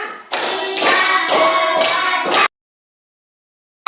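Rhythmic hand clapping in a classroom ice-breaking clap game, a group making five quick bursts of claps in a steady beat, followed by silence.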